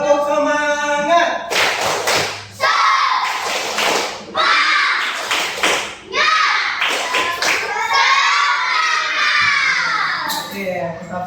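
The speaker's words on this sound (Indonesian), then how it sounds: "Tepuk semangat dulu. Tepuk semangat." Schoolchildren in a classroom do a spirited rhythmic clap-and-cheer routine, with sharp bursts of hand claps and excited young voices chanting together, loud and close.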